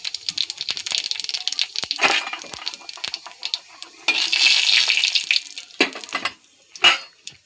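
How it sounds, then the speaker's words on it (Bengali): Bay leaf and cumin seeds sizzle in hot oil as tempering for a potato and broccoli curry, crackling and spitting in bursts with sharp pops, close and fairly loud. "দিয়ে দিলাম তেজপাতা জিরে ফোড়ন"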